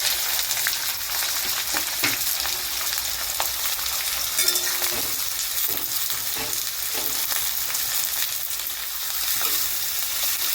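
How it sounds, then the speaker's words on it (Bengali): Onions sizzle steadily in hot oil seasoned with sugar, cinnamon and mace, a dense continuous frying hiss with occasional stirring scrapes, close and even throughout. "এবার পেঁয়াজগুলোকে আমি এর মধ্যে দিয়ে দিচ্ছি।"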